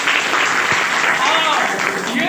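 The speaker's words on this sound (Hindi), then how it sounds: "जोरदार ताली मारो।" A seminar audience claps loudly on request in a steady, continuous roar of applause with voices mixed over the top.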